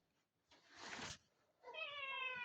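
A pet cat meows twice close by, first a breathy, airy cry and then a clearer, tonal mew, in a quiet room.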